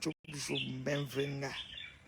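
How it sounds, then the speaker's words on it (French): Birds chirp and tweet on a morning in Marrakech, Morocco, with short bright calls close by and a person talking over them. "le chant des oiseaux, c'est ça."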